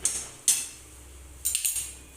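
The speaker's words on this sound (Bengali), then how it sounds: "আমি আবারও কড়াই বসিয়ে দিলাম" A metal kadai wok is set on a kitchen stove, producing a couple of short metallic clanks and scrapes, close but quiet, separated by near silence, with no talking.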